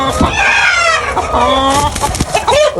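White Brahma chickens cluck loudly and close on a hobby poultry farm in Barisal, a busy overlapping chorus of hens with a rooster crow mixed in, no speech.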